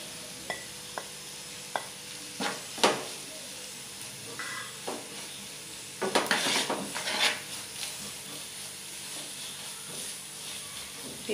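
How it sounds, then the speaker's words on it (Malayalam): Coriander powder and other spice powders roasting in a pan give a low sizzle beneath sharp intermittent clinks and scrapes of a utensil against the metal, with a brief burst of busier stirring midway. "മല്ലിപ്പൊടി ഒന്ന് ചൂടായി കഴിയുമ്പോൾ ബാക്കിയുള്ള പൊടികളെല്ലാം ഇട്ട് കൊടുക്കാം"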